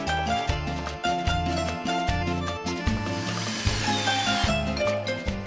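A screw gun drives screws into a metal stud profile for a partition wall, with rhythmic bursts of motor whine and grinding repeating steadily, close and loud, with no talking.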